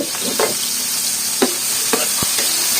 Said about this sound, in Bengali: সব দিয়ে এখন ভাজবো